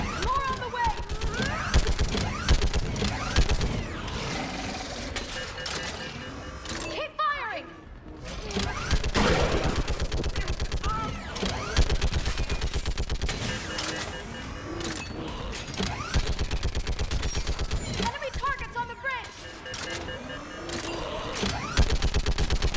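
Rapid bursts of gunfire from a gun in the Pixelmon Minecraft mod, loud and sustained, with a player talking over the shooting.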